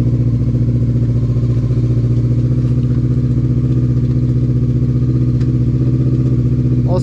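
A Bombardier DS650 ATV engine runs steadily up close, loud and throbbing with an even, rapid low pulse and a rough, clattery idle that holds throughout.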